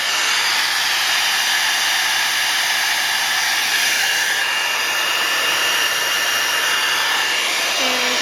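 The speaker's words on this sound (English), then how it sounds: "I've got my embossing heat tool right here." An embossing heat tool blows hot air over a Christmas card. The whir is loud, steady and continuous and holds unchanged from start to end with no talking.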